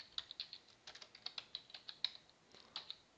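Typing on a computer keyboard, a quick irregular run of light plastic key clicks, close and fairly quiet, with no talking.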